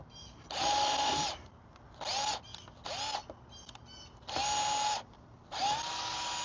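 Power drill driving screws into wooden deck stairs: four loud whirring bursts of about a second each, with short pauses between them and faint handling noise in the gaps.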